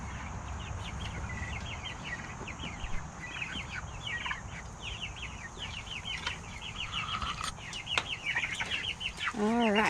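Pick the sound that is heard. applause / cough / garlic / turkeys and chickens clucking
turkeys and chickens clucking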